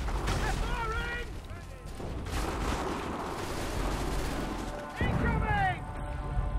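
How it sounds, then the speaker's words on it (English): Musket gunfire and battle noise in the Assassin's Creed 3 video game, rumbling booms and sharp shots spread over several seconds, loud and dense, with shouting voices over the fighting. "Get down! Take cover! They're firing!"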